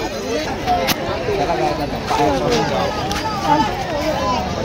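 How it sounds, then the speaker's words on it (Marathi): A dense crowd mills at a village fair in Ranjanoli, a continuous close babble of many overlapping voices with no single sound standing out. "गर्दीचं जाम लागू."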